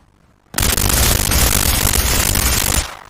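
Rapid automatic fire from a 7.62-style rifle in SCP 5k, one dense loud burst of shots lasting a couple of seconds after brief silence, then cutting off.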